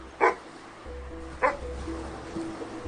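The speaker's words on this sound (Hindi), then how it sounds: "ये कौन सा कुत्ता भौंक रहा है कब से?" A dog barks twice, with sharp yips about a second apart, fairly close, over a low steady background hum at night in Goa.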